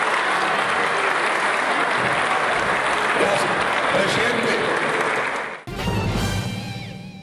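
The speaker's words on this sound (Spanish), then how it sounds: "quiero pedirle a mis colegas un fuerte y sonoro aplauso de reconocimiento a su señoría" Loud, dense applause fills the Senate chamber in recognition of President Efraín Cepeda, sustained for several seconds before cutting abruptly into a separate segment of bright noise.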